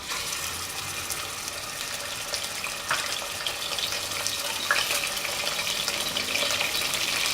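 Beef mince frying in a pan with white cumin seeds, giving a steady, dense sizzle throughout with a few brief stirring scrapes, fairly loud and close, no voices.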